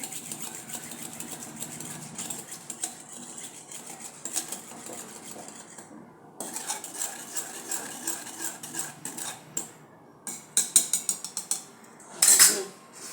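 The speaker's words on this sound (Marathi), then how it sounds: "आता चांगले घुसळवून घेऊया." Dahi with dry fruit being churned in a metal vessel, a close rattling, scraping clatter that runs in bursts with brief pauses and sharper clanks near the end.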